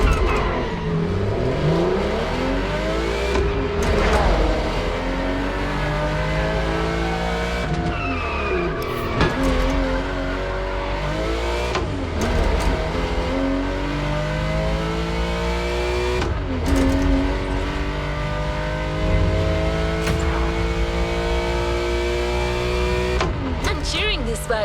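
A Nissan 370Z Nismo race car in The Crew Motorfest video game revs hard through continuous gear changes, engine pitch repeatedly sweeping up and dropping, with tire squeals, loud and steady throughout.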